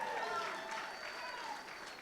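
An audience at a political rally applauds, a dense wash of clapping from a crowd that gradually fades.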